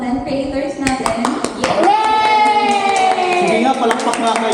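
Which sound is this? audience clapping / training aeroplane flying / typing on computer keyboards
audience clapping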